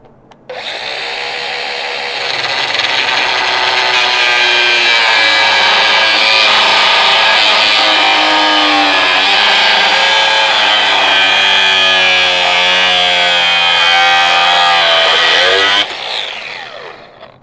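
A 0.045-inch zip cutoff wheel grinds through a steel wrench, a loud, steady high-pitched shriek running unbroken for about fourteen seconds before spinning down, with no talking.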